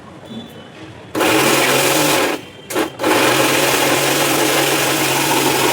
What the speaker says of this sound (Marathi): चला आता ग्राइंड करूया.